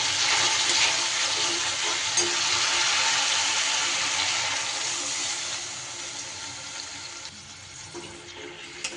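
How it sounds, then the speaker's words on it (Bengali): Water pours into a rohu fish curry, a steady rushing, hissing splash close by that gradually eases off toward the end. "সুন্দর করে কষানো হয়ে গেলে এইবার দিয়ে দেব জল"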